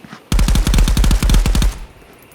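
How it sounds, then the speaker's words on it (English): Rapid automatic gunfire in the VR shooter Contractors VR, a loud sustained burst of closely spaced shots lasting about a second and a half, then cutting off into quiet. "we got some gunfire going on between the boys"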